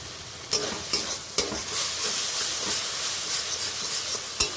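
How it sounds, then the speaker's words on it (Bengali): Ground cumin, coriander and turmeric with a little water being stirred and sautéed in a pan, a steady close sizzle with a few sharp scraping clicks from the stirring. "এবার কিছুক্ষণের জন্য আমি একটু নেড়ে চেড়ে কষিয়ে নেব।"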